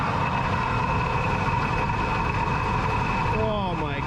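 A worn water pump growls on an idling old GMC truck, a steady close mechanical drone with a faint whine and no talk over it.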